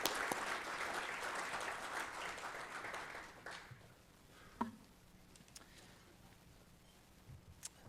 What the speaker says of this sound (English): Warm round of applause, everybody